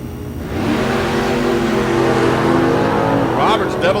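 A Mopar drag race car launches hard at Mid America Dragway during Friday time trials. A loud engine roars and climbs in pitch, with a track announcer talking over it.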